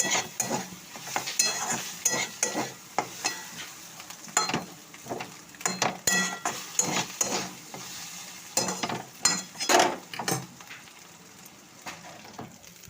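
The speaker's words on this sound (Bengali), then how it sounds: "সবজি দিয়ে ভালো করে এটা মিক্স করে দিলাম" Vegetables for pasta sizzle in a hot pan while a spatula scrapes and stirs in quick, repeated strokes, close by and fairly loud.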